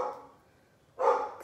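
A pet dog barks indoors in a home during a makeup session: a short, sharp single bark bursts out after a quiet pause, close and fairly loud.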